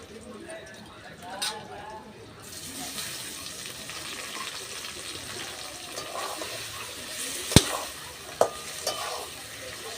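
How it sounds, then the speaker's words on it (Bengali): Chopped tomatoes go into a pan of lightly fried onions, bringing a soft sizzle and the scrape of stirring, with one sharp clank of the utensil against the pan and someone talking over it. "এবার দিয়ে দেবো আমি টমেটো কুচি"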